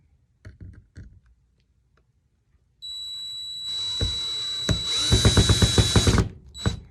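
A screw gun drives a hook into a pre-drilled pilot hole, starting after a few light taps with a steady whine that builds into a louder stuttering grind, then stops abruptly.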